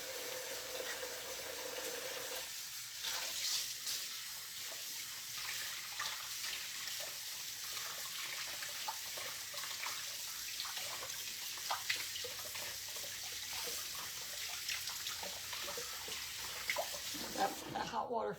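Hot water runs from a kitchen tap over hands in a steady splashing flow that continues throughout, at moderate closeness, with the water changing tone briefly near the end.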